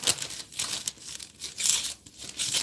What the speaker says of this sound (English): This one I'll be adding some gold color foil.